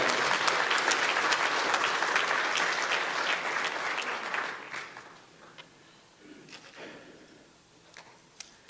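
A church congregation bursts into dense, loud applause that holds for several seconds, then thins out and fades to scattered claps.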